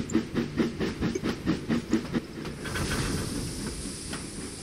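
Steam locomotive in the Trainz 2019 railway simulator game, a run of rhythmic chuffing exhaust beats at an even pace that gives way to a steady hiss of steam, moderately loud and heard alone.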